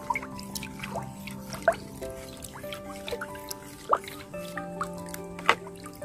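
Liquid plant fertilizer being stirred and mixed in a container, with scattered drips, light sloshing and occasional clinks against the sides, close and moderately quiet with no talk.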